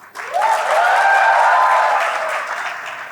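Audience applause for an actor at a Hindi interview event, a dense sustained burst of clapping that starts abruptly and holds steady for about three seconds, loud and close.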